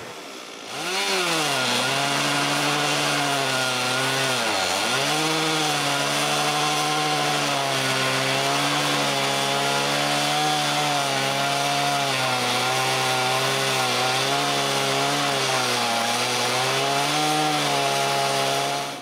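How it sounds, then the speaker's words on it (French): A chainsaw mill cuts logs into boards outdoors, the engine starting up then holding a loud, steady, close whine under load for the full length with small dips in pitch. "Quand mon nouveau moulin est prêt, on le sort dehors et on coupe des planches."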